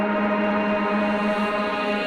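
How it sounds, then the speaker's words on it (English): Reversed vocal sample processed with a shimmering plate reverb, a sustained swelling wash of layered harmonic tones holding steady and dense for about two seconds, with no voices speaking over it. "Now let's reverse the sample by pressing R"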